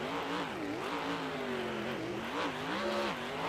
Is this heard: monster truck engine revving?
yes